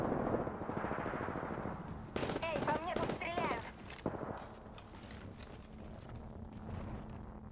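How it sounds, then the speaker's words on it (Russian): Enemy gunfire in the Apex Legends video game: bursts of rapid shots, loudest and densest in the middle of the stretch, over steady background game noise. "по мне тут стреляют"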